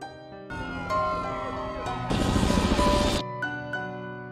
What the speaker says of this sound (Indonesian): Tidak lama kemudian sirine dan helikopter polisi pun mulai terdengar.